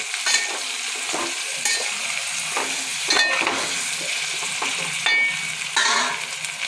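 A spoon stirring drumstick and tomato curry in a hot pan, with steady sizzling and repeated scraping strokes at close range, no talking.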